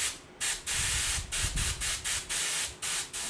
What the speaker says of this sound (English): blow through with compressed air and get rid of all the WD-40 from the housing